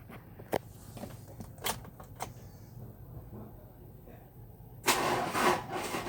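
A car with a hard-starting starter motor is cranked and fires up after several faint clicks and rustles, ending in a louder burst of engine noise close by; no voices are heard.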